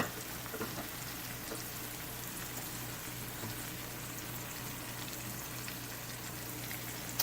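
A keto skillet cheese pizza with green onions sizzles in a cast-iron pan, giving a faint, steady, even crackle with a low hum underneath and no talking.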